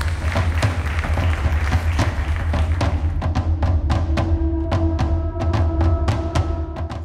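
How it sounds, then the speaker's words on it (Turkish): Studio audience at a Turkish family quiz show applauding, dense clapping throughout that thins into distinct individual claps toward the end. "Alkışlarla seni yerine alıyorum."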